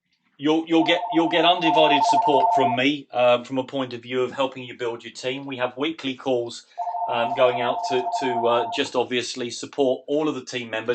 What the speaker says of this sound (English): apologies for my phone going off in the background